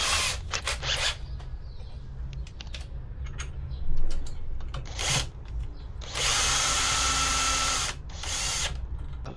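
Power drill driving a long screw on a Teverun electric scooter during a handlebar stem modification, loud whirring bursts of varying length with short ratcheting clicks between them, close and with no talk.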